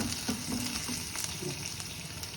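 Brinjal frying until golden, with a soft, steady sizzle and occasional light stirring scrapes, fairly quiet and continuous.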